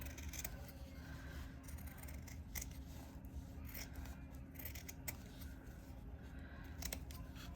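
Scissors snip through an embroidered felt ghost piece from a Halloween street sign kit, giving repeated close, crisp cutting clicks over a steady low room hum with no talking.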